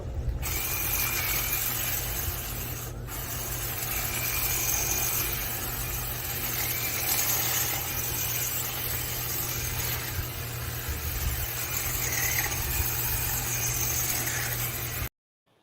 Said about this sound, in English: knocking out some of it with my Black & Decker hedge trimmer